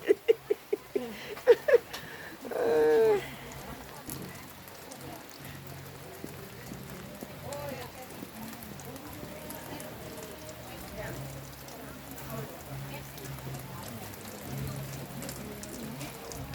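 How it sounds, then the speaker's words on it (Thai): Rain falls steadily at an outdoor Thai flea market in Finland where grilled goods are sold, a soft continuous patter after a few sharp clatters and a brief louder sound at the start. "วันนี้ฝนตก"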